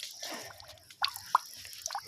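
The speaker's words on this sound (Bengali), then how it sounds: "উপর থেকে পানি পড়ছে" Water drips from above near trees, a few sparse, faint individual plinks landing over a quiet background.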